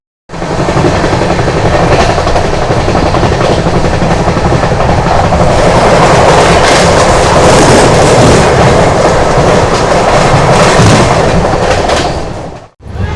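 The Kongu Express train rumbles steadily along the tracks near Ramagundam, India, loud and continuous with a rattling, clattering rhythm, before the sound cuts off abruptly at the end.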